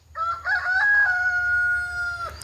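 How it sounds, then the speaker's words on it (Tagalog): A rooster crows once nearby in the afternoon, a long rising and held call that ends with a falling note, over a low background rumble. "Yung manok parang umaga kagigising pa lang tumilaok."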